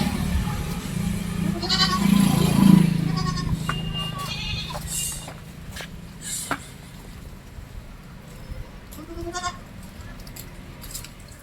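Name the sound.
goats bleating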